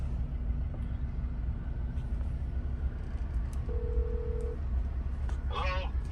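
A telephone dials out: a short steady tone and then a quick warbling beep, faint against a low rumbling background near a truck, with someone talking throughout.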